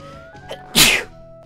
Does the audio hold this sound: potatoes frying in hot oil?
no